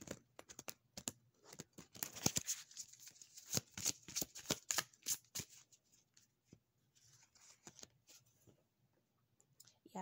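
Tarot cards are shuffled close by in quick riffling and flicking bursts, busiest early and then thinning into scattered soft taps against a quiet room.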